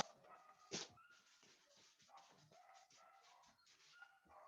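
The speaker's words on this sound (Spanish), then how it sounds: "Ya, están ladrando en el patio." Dogs in an outdoor yard bark and yip faintly in a quiet scene, one sharper bark standing out near the start, followed by scattered softer barks and whimpers at some distance.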